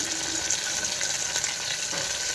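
Onion, peas and carrot fry steadily in a pan for kichidi, a continuous bright sizzle with no talk over it.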